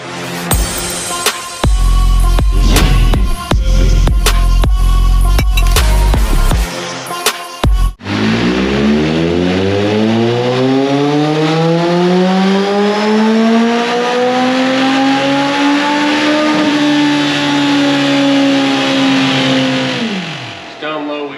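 A 2017 Suzuki GSF 1250 Bandit motorcycle engine revving hard on a dyno, first in sharp bursts and blips, then a long sustained climb in pitch up to high rpm before cutting off.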